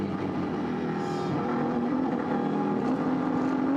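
Race cars at the Nürburgring, including the number 33 Falcon Motorsports Porsche 911 GT3, give a continuous distant engine drone with a rising whine near the end, steady and moderately loud, without speech.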